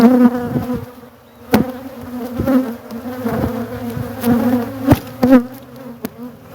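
Bees buzz loudly and close around an open Layens hive, a dense continuous drone with individual insects rising and falling in pitch and occasional sharp bumps and knocks.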